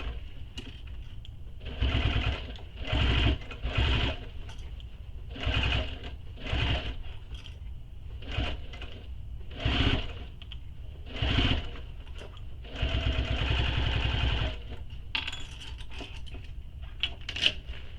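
A sewing machine stitching binding onto a large handmade backpack, running in repeated bursts of rapid mechanical whirring with short pauses between them, close and clear.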